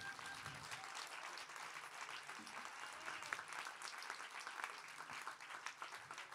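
Concert audience applauding at the Ossola Guitar Festival, a dense, sustained round of clapping from a crowd that keeps a fairly constant level from start to finish, heard on its own without music or talk.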